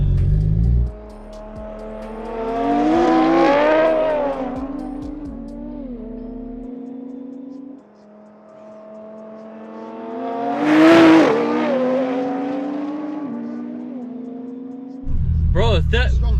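A race car engine pulls hard through its revs twice, each run climbing in pitch and then dropping as it shifts gear. The roaring runs are loud and close, with a brief idle between them.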